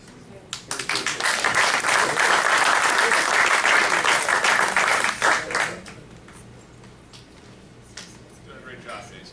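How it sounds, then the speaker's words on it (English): Audience at a Golf and Green town hall meeting bursts into loud, sustained applause lasting several seconds, then fades out to scattered claps and room noise. "I do want to applaud Jason."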